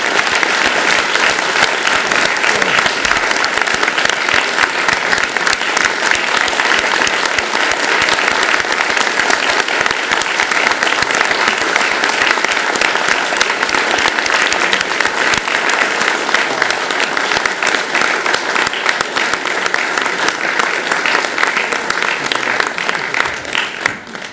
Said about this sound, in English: I feel they deserve a warm round of applause